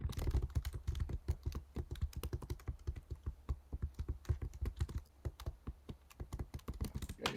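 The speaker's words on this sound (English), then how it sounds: "Somebody typing." Rapid, uneven keystrokes clatter on a computer keyboard, a close, quiet stream of sharp clicks in irregular bursts with brief pauses, heard alone during an online webinar.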